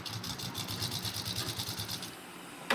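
Sewing machine stitching the side seam of underwear, running with a fast, even mechanical rhythm at moderate level and stopping just before the end.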